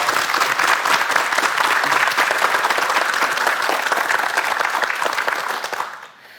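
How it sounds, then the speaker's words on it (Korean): Loud, sustained studio audience applause at a Korean morning talk show greeting a lecture on happiness, thick clapping from many hands that carries on evenly before tapering off sharply at the end. "박수로 강의 청해 주시기 네, 바랍니다"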